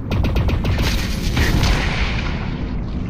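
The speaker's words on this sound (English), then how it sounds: "a direct hit to the cell from your pulsar would likely cause it to detonate" A power cell detonating after a pulsar hit in the video game Lone Echo 2: a loud, sustained rumbling boom with crackling bursts early on, filling the whole three seconds before slowly easing off.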